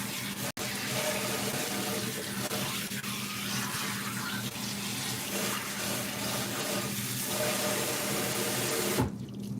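Tap water runs steadily into a kitchen sink as something is rinsed out, a continuous close wash of water lasting nearly the whole stretch before cutting off near the end.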